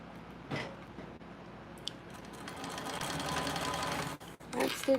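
Sewing machine stitching a bag pocket at an eighth-inch seam allowance, a steady mechanical whir running through most of the stretch under a low room background, with brief pauses and light handling noises.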